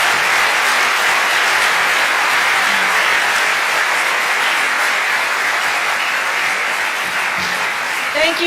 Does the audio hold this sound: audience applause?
yes